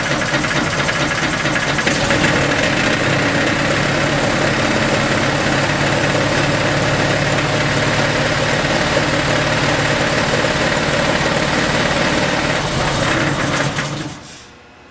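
A brushless DC motor runs steadily after a relay is released, giving a loud continuous mechanical whir with a low rhythmic hum for most of the span, then cutting off and fading near the end.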